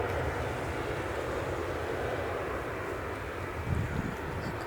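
Helvetic Airways airliner from Zurich at Manchester Airport in the early morning, a steady low jet rumble at a distance with a brief swell near the end, no voices.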